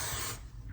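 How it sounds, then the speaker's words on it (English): Classic aerosol hairspray sprays in one steady, close hiss lasting about a third of a second, then trails off into softer background noise. "this is more of a classic aerosol hairspray"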